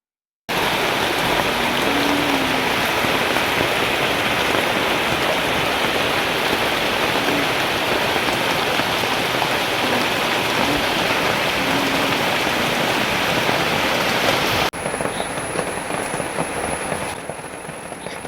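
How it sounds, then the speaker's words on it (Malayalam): Heavy rain pours steadily in a dense, continuous roar, then eases slightly near the end. "മഴയാണെങ്കിൽ ഒന്നൊന്ന് ചെറുതായിട്ടൊന്ന് കുറയും പിന്നെ അതിനേക്കാൾ ശക്തിയായിട്ട് വീണ്ടും പെയ്യും"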